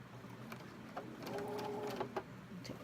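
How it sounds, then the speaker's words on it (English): A sewing machine stitches fabric in a short, steady run of mechanical chatter, fairly quiet and close, with no talking. "And I sew it just like I normally sew it."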